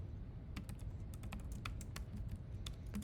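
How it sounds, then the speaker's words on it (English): Code typed on a computer keyboard: a quick, irregular run of close, crisp key clicks over a soft background hiss, with no voice. "if I can type it out."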